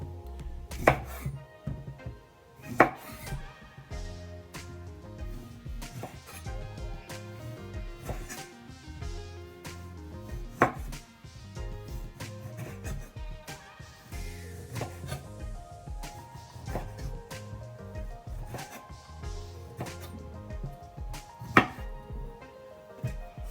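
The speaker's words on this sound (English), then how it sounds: "So I'm cutting up the lemon, okay?" A knife chops a lemon on a board, irregular sharp knocks spread across the stretch with quieter gaps and a few louder strikes, close and without talk.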